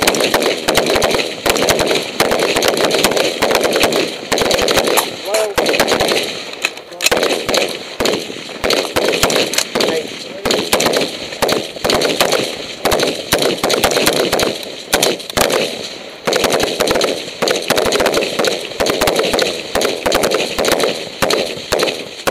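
Repeated gunshots during shooting reload drills at a range, loud sharp cracks fired in rapid bursts and strings with short pauses between, close by, with brief voices in between.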